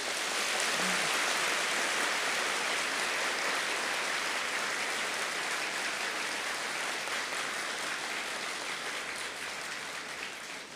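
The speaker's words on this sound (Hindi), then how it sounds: "जोर से ताली तो बजाओ" A crowd claps hard and steadily at a spiritual gathering, a dense, even wash of applause that fills the whole stretch without any voices.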